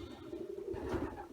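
Racing young pigeons cooing in a loft, a steady low murmuring coo that continues throughout, close and moderately loud, with some broader rustle near the end.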